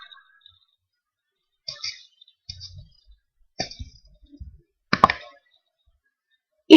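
Computer mouse clicking through a MySQL visual interface, a handful of sharp isolated clicks spaced across quiet, fairly close.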